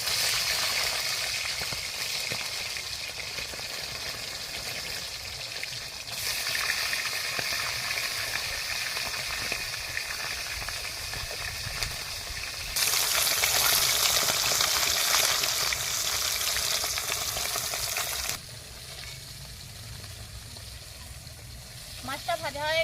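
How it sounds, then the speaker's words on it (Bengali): A fish head frying in hot oil, a continuous close sizzle and hiss that rises and falls in intensity over its length. "মাছের মাথাটা আমি ভেজে দিচ্ছি।"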